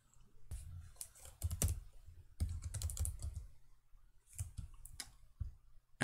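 Computer keyboard typing while entering text in a CAD program, close, quiet clusters of quick key clicks separated by short pauses.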